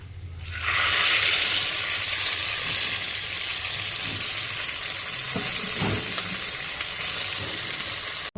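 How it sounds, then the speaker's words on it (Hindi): Hot garlic tempering (baghar) hits cooked spinach dal, bursting into a loud, close sizzle that starts abruptly and holds as a steady hiss, with a few soft stirring knocks beneath it. "बघार हो गया रेडी। अब इसको डालते हैं दाल पर।"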